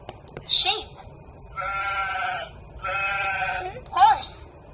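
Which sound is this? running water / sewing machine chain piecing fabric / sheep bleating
sheep bleating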